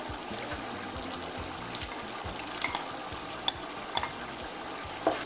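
Green and red peppers being stirred into a pot of sautéed egusi (ground melon seeds) with cabbage, a steady close sizzle with occasional scraping spoon taps and small clicks, no voices.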